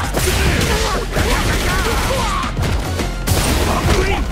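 Guile's Flash Kick special move in Street Fighter 6 lands amid a busy fight, sharp whooshes and heavy impact cracks bursting loudly over game effects and an announcer-style voice.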